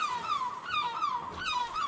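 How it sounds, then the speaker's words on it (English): Gulls calling repeatedly outdoors over a cottage garden, a series of wailing, downward-sliding cries in quick succession, fairly clear and moderately near with no talking. "Isn't it lovely to hear the gulls again?"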